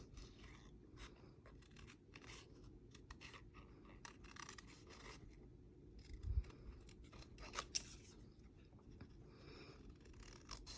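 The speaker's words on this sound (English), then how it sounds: "Cut off the excess cardstock as you go." Scissors snipping through cardstock in quick, quiet, close-up cuts and rustles, with a few sharper snips standing out; no one speaks.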